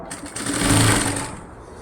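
A sewing machine sews a nighty sleeve seam in one brief, close, steady whirring run that swells and then fades out, no talking.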